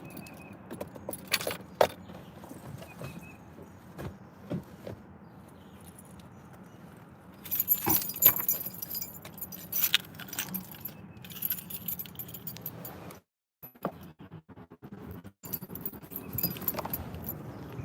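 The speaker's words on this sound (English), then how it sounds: "Oh, I got the wrong keys." Keys jangle and clink close by in repeated short bursts at an office door that opens by code, with traffic passing in the background.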